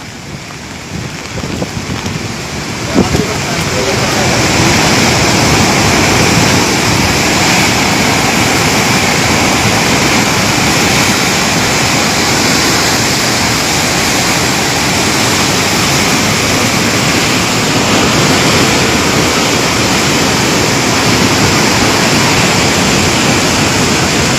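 Raging floodwater roars below a dam gate, a loud, steady, broadband rush that holds without pause for the whole stretch, with a brief rougher splash near the start.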